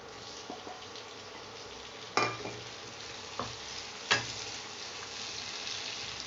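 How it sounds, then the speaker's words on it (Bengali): Frying onions with tomatoes added, stirred in a pan: a soft steady sizzle under a few sharp scraping strokes and clinks of the spoon against the metal pan. "দেখুন আমাদের পেঁয়াজটা প্রায় ভাজা হয়ে গেছে, এবার আমরা এর মধ্যে অ্যাড করছি হচ্ছে টমেটো।"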